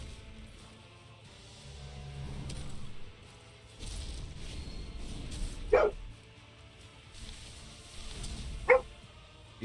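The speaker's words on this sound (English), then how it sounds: "Be good. Stop barking." A pet dog indoors barks twice in sharp bursts against a quiet background of faint low hum and rustling, fairly far from the microphone.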